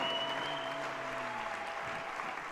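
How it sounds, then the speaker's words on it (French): Church congregation applauding during a Catholic Mass prayer, steady dense clapping throughout with faint sustained tones of music or singing underneath. "Applaudis le Roi des Rois."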